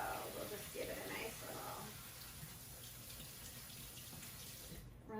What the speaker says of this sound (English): you just want to rinse off anything that might have touched it while being processed